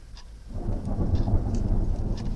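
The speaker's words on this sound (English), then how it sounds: "that storm's still raging out there" A thunderstorm outside, heavy rain hissing steadily while deep thunder rumbles and swells, loud and continuous, with no talk.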